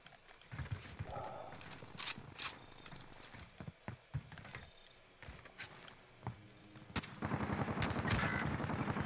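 Shotgun fire in the Call of Duty Warzone shooter game, several sharp shots spaced out amid gameplay noise and footsteps, with players talking in French over it.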